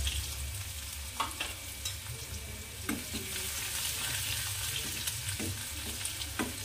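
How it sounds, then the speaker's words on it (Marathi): Finely chopped onion sizzles in hot oil tempering with cumin for a raw-mango kadhi, a continuous frying hiss broken by sharp stirring clacks of a spoon against the pan. "बारीक कट करून कांदा ऍड करायचा आहे"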